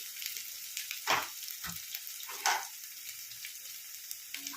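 Dry spices fry in hot oil over low heat in a pan, a steady faint high sizzle running throughout, with a few soft stirring scrapes.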